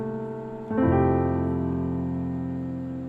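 Piano sounds a sustained chord that shifts once to a fuller, louder chord, ringing out and slowly fading, played alone with no voices.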